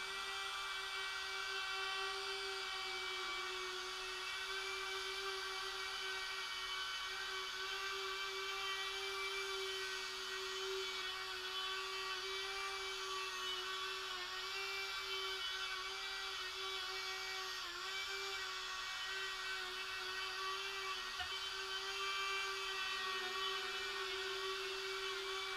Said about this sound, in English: I decided it would be easier to first cut out a recess for the stainless steel to go into.